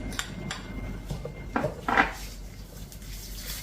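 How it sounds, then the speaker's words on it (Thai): Red curry paste stirred into two tablespoons of oil in a pan over low heat for mee kati, with quiet scraping and a couple of brief utensil clinks against the pan. "นำน้ำพริกแกงเผ็ดนะคะลงผัดกับน้ำมันค่ะ"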